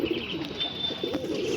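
Pigeons at a market cooing close by in a short low burst, with light background bustle.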